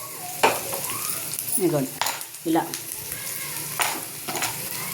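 Onion frying in oil in a pan, with a bright sizzle and several distinct scrapes and clatters of a stirring utensil, close up, and a brief spoken word partway through.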